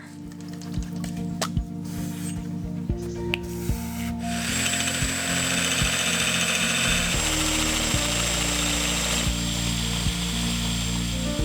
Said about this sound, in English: making the holes that bit bigger, he's basically stripping away the galv on that area